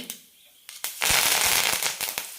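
Mustard seeds and curry leaves crackle and spit loudly in hot coconut oil in a pan, a dense burst of sharp popping that starts after a few scattered pops and keeps going close by.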